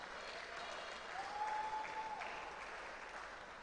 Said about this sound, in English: Please, a round of applause for our judge.